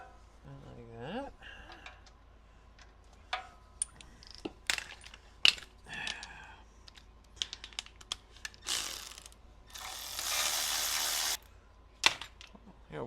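A ratchet clicks in short bursts while bolts are snugged during engine reassembly, close metallic ticks and clinks interspersed with tool handling, plus one longer sustained burst of rapid ratcheting.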